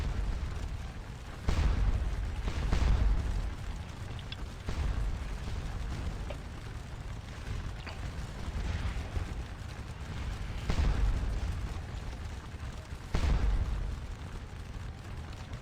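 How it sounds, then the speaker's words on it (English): Line infantry volleys in the Napoleonic battle game Scourge of War Waterloo: distant rolling musket fire crackles and booms in several uneven waves over a low rumble, with no talk. "So now they've got 2 line infantry units shooting at them"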